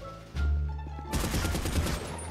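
Rapid bursts of gunfire crackle and pop in GTA roleplay zombie server FiveZ, a loud boom followed by a dense stream of shots layered over a low droning hum.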